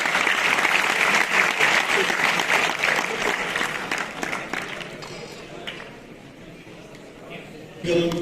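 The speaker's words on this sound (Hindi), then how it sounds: "जोरदार तालियां।" Loud, dense applause from a conference audience fills the first half, then thins and fades into quieter scattered claps and room noise, with a brief voice bump near the end.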